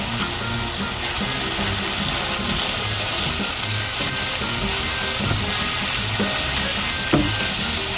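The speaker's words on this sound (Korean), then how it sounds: "조금만 볶다가 계란도 넣으려고" Shrimp fried rice stir-fried in a home kitchen pan gives a steady close sizzle, with scraping and stirring clatter running through the whole stretch. No one speaks.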